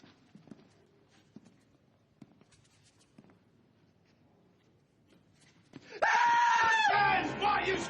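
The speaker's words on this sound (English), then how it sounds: "Guys, why are you screaming like a goddamn little girl?" Several men scream together, a sudden loud sustained burst after a quiet stretch of faint footsteps and shuffling, the yelling holding at high volume to the end.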